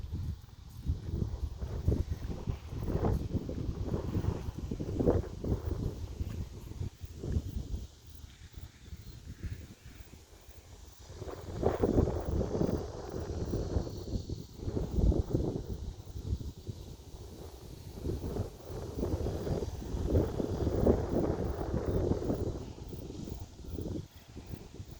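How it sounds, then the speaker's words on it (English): Strong wind buffets the microphone on an open Kansas prairie nature preserve, producing a steady low rumble that swells in loud gusts throughout, with the dull thumping and roar running continuously. "It's really windy, so it's going to affect the audio quality"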